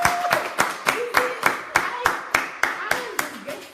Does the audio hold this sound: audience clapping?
yes